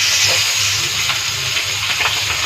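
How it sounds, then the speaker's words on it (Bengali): Pabda fish sizzles in hot oil in a frying pan, giving a loud, steady broadband hiss with small crackles and pops. "মাছ ফ্রাই করতেছি।"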